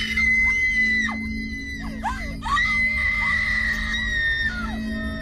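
A woman screams repeatedly in a radio drama, her high, wavering cries rising and breaking over a steady low hum, with breathless gasps between the shrieks.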